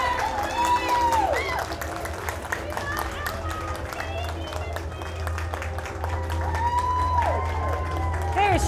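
Crowd applause and cheering at a cosplay contest, steady clapping and shouts through the whole stretch while an announcer's voice carries over the top.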